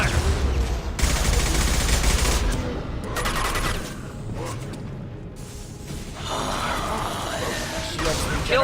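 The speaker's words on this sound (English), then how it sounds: "Taking heavy fire." Heavy gunfire in the sci-fi shooter Mass Effect 2 rattles on for several seconds, with dense bursts and crashes layered over game noise and a voice speaking.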